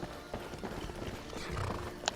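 Horse hooves clip-clopping in a fantasy role-playing video game, a soft run of hoofbeats at a walking rhythm over a low ambient background, with a brief sharp sound near the end.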